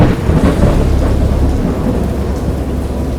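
A violent thunderstorm: deep rolling thunder rumbles continuously beneath heavy, hissing rain, loud and close throughout with no voices.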